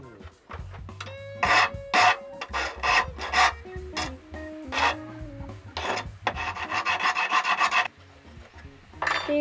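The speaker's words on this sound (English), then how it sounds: "Now I'm just going to clean the edges up with a file" A metal file rasps along the cut edges of a homemade steel right-angle clamp, a close, loud run of repeated scraping strokes in a steady back-and-forth rhythm with no talk.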